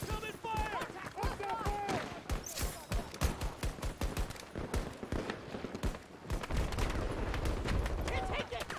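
Rapid gunfire in the video game Battlefield 2042, bursts of sharp shots and automatic fire crackling in quick succession with shouted soldier voices over the top, fairly busy and close throughout.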